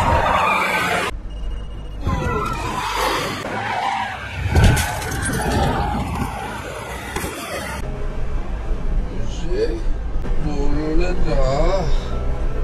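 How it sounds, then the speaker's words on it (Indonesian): A truck skids along a road and crashes near roadwork, a loud scraping skid with a heavy impact midway, set among dramatic music and background voices. "truk itu tergelincir dan menabrak"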